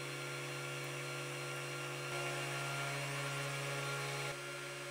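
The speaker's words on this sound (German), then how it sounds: "die erste Bohrung wird mit einer zu hohen Geschwindigkeit gesetzt" A CNC 3018Pro spindle drills into a circuit board, a steady high motor whine with constant hum, rising slightly in load midway then easing near the end, close and alone.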